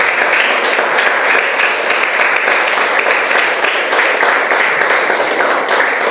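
A church congregation applauds with dense, steady clapping that fills the room loudly and continuously, with no break.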